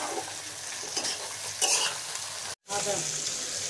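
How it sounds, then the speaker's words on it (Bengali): Fish fries in a hot pan with a steady, close sizzle and crackle, broken by stirring scrapes and one brief dropout near the end. "এদিকে মাছ ভাজা চলছে।"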